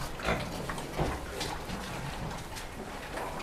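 A pig sow grunts on a farm, a series of short rough grunts at close range over a dense noisy barn background.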